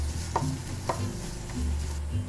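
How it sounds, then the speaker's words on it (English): Onions sautéing in olive oil in a soup pot for a tomato and roasted eggplant stew, a low, steady sizzle under a few soft stirring scrapes, close and alone without speech. "We're going to throw in a tablespoon of olive oil, and we're going to throw in our onions and saute for about 10 to 12 minutes"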